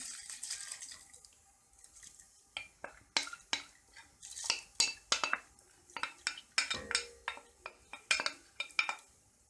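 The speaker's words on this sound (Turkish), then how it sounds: "Şöyle tahta kaşığımla bir karıştırıyorum." A wooden spoon stirs and scrapes wheat in hot water inside a pot, with a run of irregular clinks and knocks and some faint sloshing of water.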